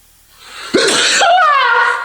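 A single loud, close sneeze with a sharp inhaled buildup and an explosive burst, trailing into a brief voiced tail.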